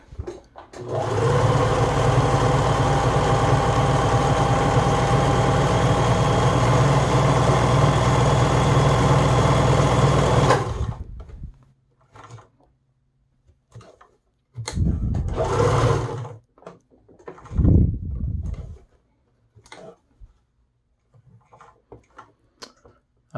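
A Bernina 811 sewing machine runs a joining stitch in one loud, steady mechanical whir for about ten seconds, followed by a few short bursts of stitching and scattered clicks and taps.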